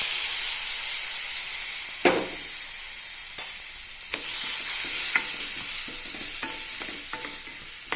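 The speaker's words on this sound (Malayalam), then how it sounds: "ഉടനെ തന്നെ നമുക്ക് ഈ മാങ്ങയും അതിലേക്ക് ചേർത്ത് കൊടുക്കാം." Mango pieces get stirred into a sizzling curry in a pan, a loud continuous frying hiss with a splattering burst as they go in, followed by several scraping strokes of a spoon.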